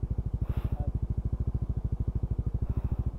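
A motorcycle engine chugs in a fast, even rhythm of low pulses, close and steady, while riding a rough new road project between San Joaquin, Iloilo and Sibalom, Antique; a faint voice briefly cuts in.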